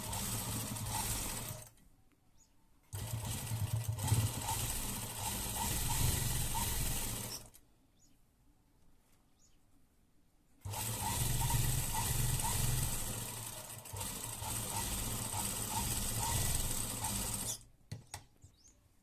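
Sewing machine stitching a sleeve seam in bursts, a fast mechanical whirring clatter running for a few seconds at a time, separated by quiet pauses, close and fairly quiet with no talk.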